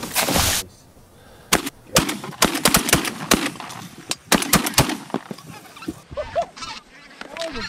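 Shotguns fire in a fast, loud flurry of close blasts during a duck and goose hunt, with an opening shot, then a dense volley of overlapping shots, amid geese honking and hunters' voices.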